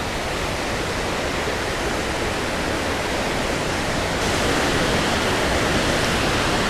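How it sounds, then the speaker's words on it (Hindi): A waterfall pours down beside a wooden footbridge in Tirthan valley, a steady, loud, close roar of rushing water filling the whole clip with no pauses and no talk. "ये मेरे पीछे गिर रहा है वाटरफॉल"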